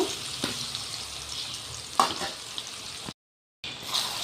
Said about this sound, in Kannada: ಎಣ್ಣೆಯಲ್ಲಿ ಚೆನ್ನಾಗಿ ಫ್ರೈ ಮಾಡ್ಕೋಬೇಕು